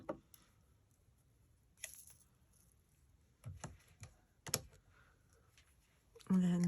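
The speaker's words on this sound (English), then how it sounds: "And then I can take my scissors" Scissors cut along a marked line on paper card for an explosion card craft, making sparse, soft snips and clicks spaced irregularly over quiet room tone.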